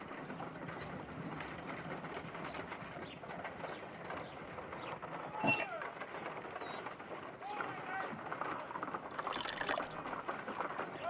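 Water poured into an ice knife mold in the Sherlock Holmes: Crimes & Punishments game, a faint, steady liquid trickle and splash running throughout, with a few small clinks and a brighter splash near the end.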